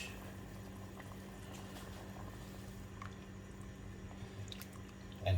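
Stock with fish, crayfish and cow skin boiling steadily in a pot for Nigerian egusi and ogbono soup, a constant soft bubbling and simmering hiss heard close and alone.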